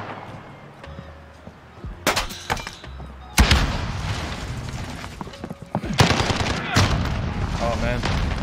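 Automatic AS VAL gunfire in the shooter game Call of Duty: Modern Warfare, loud close bursts of rapid shots with a few quieter pops, under in-game action noise and talk.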